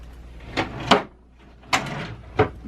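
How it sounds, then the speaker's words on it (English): A small pantry drawer in a tour bus kitchen slides open and shut, giving a few soft knocks and sliding thuds with brief quiet gaps between them, close by in a small space. "and then another little pantry drawer."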